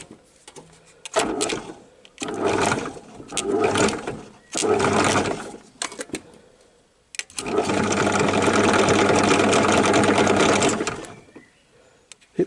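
A small engine belt-driving a machine on its smallest pulley runs in a steady mechanical whir for several seconds, after a series of short bursts of running and stopping, close and fairly loud.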